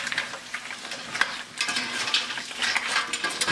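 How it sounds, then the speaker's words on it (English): Mirepoix of celery, carrots and onions with lobster shells gets stirred in a pot, a steady sizzle under irregular scraping and clattering of the spoon against the pot, close and continuous. "I'm going to stir it in."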